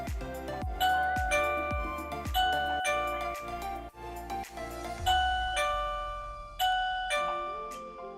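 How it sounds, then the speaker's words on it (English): An X9 doorbell camera chime rings after the button press, a bright, bell-like melody with clear ringing tones that decay between notes, repeating across several seconds, loud and alone without talk. "Then press your doorbell camera."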